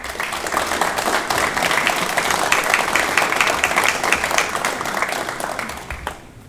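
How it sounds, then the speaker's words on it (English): Graduates and guests at a fire academy graduation applaud their training staff, with loud, dense, steady clapping filling the room that cuts off sharply at the end. "how about giving your training staff a round of applause?"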